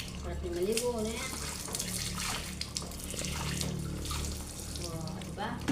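Water splashes and runs as a child is bathed, with tap-like pouring and sloshing throughout, while voices talk and coo nearby over the splashing.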